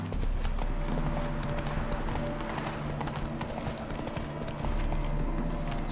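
Rapid, rhythmic hoofbeats of a galloping horse in The Witcher 3 drum on continuously over a low ambient game soundscape, close and steady, with no talking.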